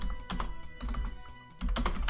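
Computer mouse clicking, several sharp close clicks in an irregular rhythm, fairly quiet with no talk over them.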